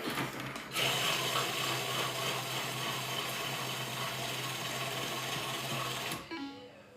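A Thermomix TM7 mixing dessert cream in manual mode, a steady, loud mechanical whirring hum that starts abruptly after a short pause, runs unbroken for several seconds, then cuts off with a faint clatter.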